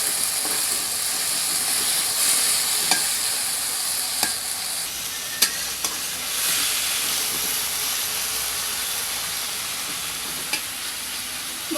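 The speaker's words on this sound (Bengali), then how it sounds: "মশলার সাথে বেগুনটা একটু কষিয়ে নেব।" Eggplant cooking down with spices in a hot pan for a fish chorchori, a steady close sizzle and hiss with occasional sharp clicks of a utensil stirring against the pan, no voices.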